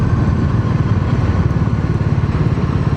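Big cc motorcycle riding along a road through fields, its engine throbbing in a steady fast pulse, close and loud, with no voices.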